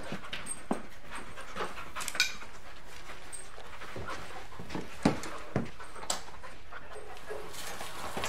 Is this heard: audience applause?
no